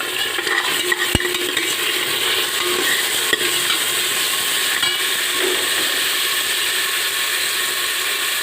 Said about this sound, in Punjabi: ਥੋੜਾ ਜਿਹਾ ਪਿਆਜ਼ ਨੂੰ ਸੇਕ ਲੱਗ ਲਵੇ